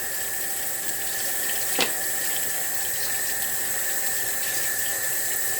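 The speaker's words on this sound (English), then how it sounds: "I'm just gonna run some cool water over it real quick" Cool tap water runs steadily over corn in a colander in a kitchen sink, a constant close hiss with one brief splashy burst partway through and no talk.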